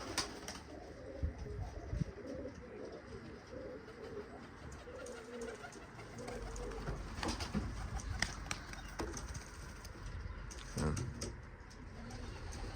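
Pigeons cooing on a rooftop loft while a falcon circles overhead, soft repeated coos amid outdoor background noise and occasional wing flaps, with faint voices nearby.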